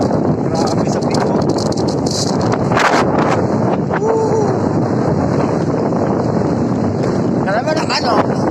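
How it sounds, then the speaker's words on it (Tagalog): Strong wind buffets the microphone at a harbour port, a steady loud roar with rumbling gusts running throughout, with brief clatters and faint distant sounds mixed in. "Malakas na hangin."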